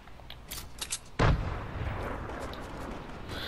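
One sharp, loud gunshot booms in the Fortnite video game, preceded by a few faint clicks and followed by a lingering rumble of game ambience.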